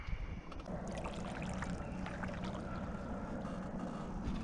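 A kayak or canoe paddled across a lake, with steady soft water swishes and splashes close by under a light wash of wind and no talking.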